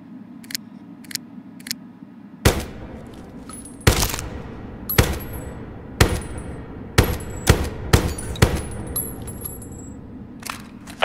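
Gunfire in the video game Hired Ops, spaced semi-automatic shots and short bursts ringing out loud and sharp with brief gaps between, sometimes several rounds in quick succession.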